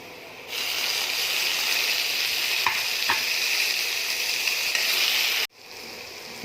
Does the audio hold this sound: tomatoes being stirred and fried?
yes